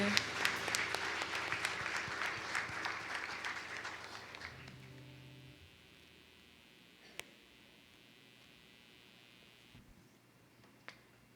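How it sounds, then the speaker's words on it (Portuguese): A church congregation claps during a worship service, brisk applause for about four seconds that then fades away, leaving a quiet room with a low hum and a couple of isolated clicks. "Você pode aplaudir o Senhor?"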